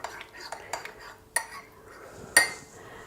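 A spoon stirs and clinks against a cup while mixing a homemade tea remedy for a sore throat, with a few sharp chinks spaced over a quiet background and one louder clink near the end.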